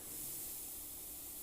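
An airbrush sprays Molotow chrome paint to lay a drop shadow on small painted ropes, giving a close, steady airy hiss that holds evenly throughout.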